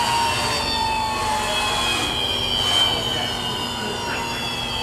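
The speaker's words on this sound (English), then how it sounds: "you can jog the table. That's your table back and forth. Nice and quiet, smooth." Table of a 12" x 36" Okamoto universal OD/ID cylindrical grinder jogging back and forth, a steady, smooth machine hum with a high whine and faint rising and falling swells, heard close and continuous while a person talks over it.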